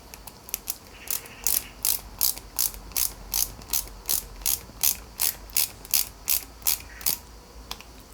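A screw is driven into a 1/8-scale Nissan Skyline GT-R model kit from Fast & Furious with a screwdriver that gives a rapid, regular series of sharp ratcheting clicks, close and clear with no talking.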